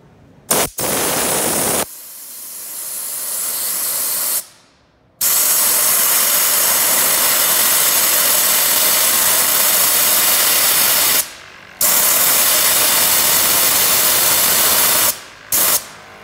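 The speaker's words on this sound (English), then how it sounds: "while I was cleaning my slash, using an air, com uh, air compressor," Air compressor nozzle blasting air to clean a Traxxas Slash RC car, loud harsh hissing bursts of several seconds each, separated by short pauses, close up with no talk.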